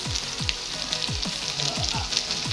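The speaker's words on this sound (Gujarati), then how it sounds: "હવે એને પાછું મિક્સ કરી લેવાનું થોડી વાર આવી રીતના હલાવવાનું એટલે નીચેથી બળે નહીં" Stuffed potatoes and brinjal with masala sizzle steadily in a pan while a spoon stirs them, with repeated scraping strokes about every half second over the constant frying hiss.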